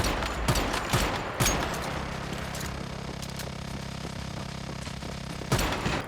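Gunfire in the video game Once Human sounds as sharp shots at irregular intervals, several loud cracks spaced across the stretch over a steady low hum of game ambience.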